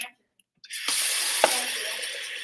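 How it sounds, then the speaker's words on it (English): Cold water gushes from a tap into a container during a temperature and air pressure lab, starting abruptly after a brief silence and running steadily as a loud, close splashing stream with one sharper knock partway through. "As soon as I put the cold water in"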